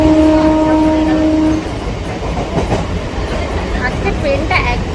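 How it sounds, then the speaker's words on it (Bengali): Riding inside an almost empty local passenger train bound for Barasat: a loud, steady rumble of the moving carriage, with a tonal hum in the first second and a half that fades into continuous rattling and clatter. "ট্রেনে করে এখন আমরা যাচ্ছি বারাসাত"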